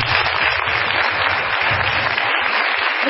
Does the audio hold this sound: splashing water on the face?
no